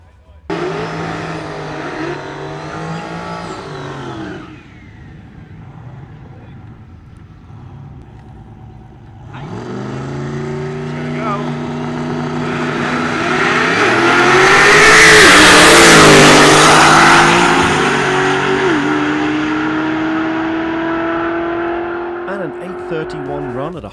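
A drag racing car at Famoso Dragstrip, clocked at 146 mph, snarls through revs, drops briefly, then roars into a loud, rising run that peaks midway and holds a strong engine drone before easing off.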